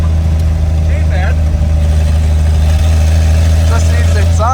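A 1954 Chevrolet engine idles without an exhaust system, a loud, steady low rumble running throughout while people talk nearby.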